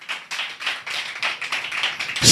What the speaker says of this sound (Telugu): కొట్టండి చప్పట్లో సరే